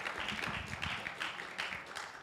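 A church congregation applauding the Lord during a sermon, with a dense, steady wash of many hands clapping at once, sustained throughout and heard from within the room.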